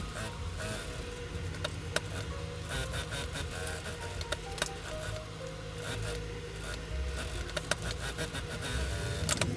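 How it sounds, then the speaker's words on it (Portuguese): A sewing machine runs a safety seam around the edge of a fabric thermal lunch bag, producing a continuous close mechanical whirr and rattle with small ticks and bumps as the stitching carries on. "eu vou passar uma costura de segurança por toda a volta dessa peça"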